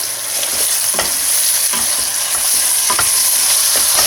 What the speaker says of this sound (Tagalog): Ilagay na rin natin yung ating boiled shredded chicken. Then, igisa lang natin ng konti.